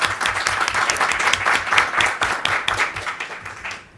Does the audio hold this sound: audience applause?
yes